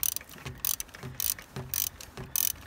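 A 12 mm socket ratchet tightening a bolt on a 2005 Nissan Altima 2.5 litre engine during thermostat replacement, close rhythmic clicking strokes repeating about every half second, alone without talk.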